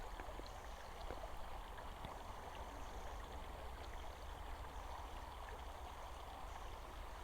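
A lovely river flows steadily nearby, a continuous rushing and gurgling of water that stays even and unbroken throughout, with no voices.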